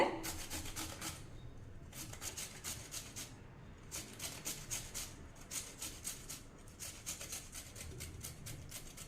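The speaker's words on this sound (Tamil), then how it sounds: "இப்போ வாழைக்காய் வந்து இந்த அளவுக்கு துருவி எடுத்துட்டேங்க" Raw plantain being grated by hand on a grater, a steady run of close, quiet scraping strokes in a regular back-and-forth rhythm with brief pauses.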